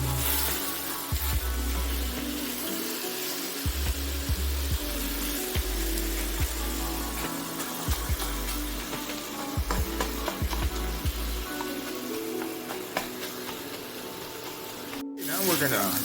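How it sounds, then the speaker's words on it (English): Italian sausage sizzles and browns in a pot, a dense, continuous crackling hiss close up, broken by soft knocks and scraping as the meat is stirred and broken apart. "It's starting to sizzle and brown up good."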